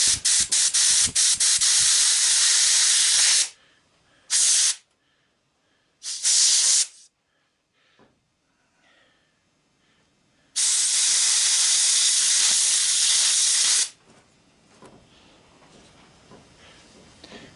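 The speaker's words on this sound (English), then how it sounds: "The one thing I do take my air nozzle and I've kind of covered the tip." A compressed-air nozzle with its tip partly covered blasts air while a waste-oil burner is cleaned, in loud hissing bursts of varying length separated by quiet gaps, the longest lasting about three seconds.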